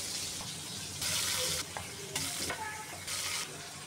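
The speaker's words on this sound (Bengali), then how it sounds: "সবগুলো মাছ একসাথে ভাজা দেবো না, আমি এই কয়েক পিস ভেজে নেই" Pieces of pangas fish fry in hot oil in a pan, giving a steady, close, loud sizzle that swells in several surges, with occasional faint clinks of stirring.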